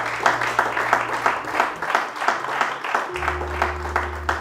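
A church congregation claps and applauds during a sermon, a steady rhythmic patter of many hands filling the space, with a low sustained tone joining partway through.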